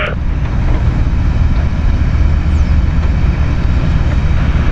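Airplane taking off from runway 32 at Zurich airport, a loud, steady broadband engine roar that holds without a break.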